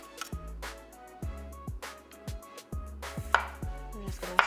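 A knife slicing straight down through a lemon on a cutting board, several distinct thuds in an uneven rhythm, close and clear with no talking.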